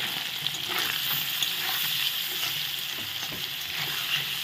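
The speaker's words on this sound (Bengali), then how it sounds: "ভেজে নিচ্ছি।" Food frying in a pan with salt and turmeric while being stirred for a Kashmiri potato-paneer dish: a loud, dense, continuous sizzle close up, with faint utensil scrapes mixed in.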